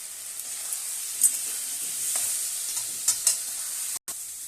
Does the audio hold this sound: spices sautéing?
yes